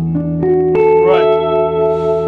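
An electric guitar through a Two-Rock TS1 amplifier on its clean channel rings out in a few clean, sustained notes with a touch of reverb, played alone and fairly loud.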